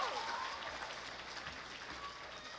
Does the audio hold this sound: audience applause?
yes